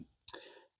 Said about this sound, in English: Let's see if we can get a perfect shuffle here.